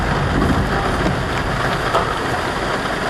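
Heavy rain pours down outside near shops, a loud dense steady hiss of water drumming on surfaces with a low rumbling undertone throughout.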